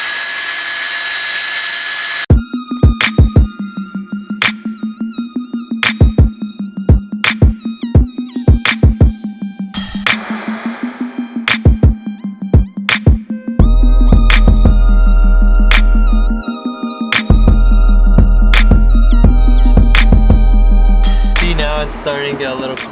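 A power drill buffs compound on a car headlight, revving loudly with a steady whine broken by repeated clicks and pauses, then running continuously toward the end.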